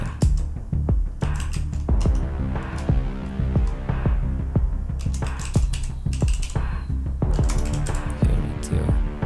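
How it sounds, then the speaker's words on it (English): Login details are typed on a computer keyboard, a steady run of close, sharp key clicks in uneven bursts with brief pauses, loud and dry throughout. "let me type it once again"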